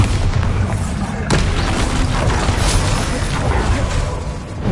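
A Bombarda blasting spell detonates in a Harry Potter video game, giving a loud, booming explosion with a sharp crack partway through and a sustained rumbling roar that fills the whole stretch.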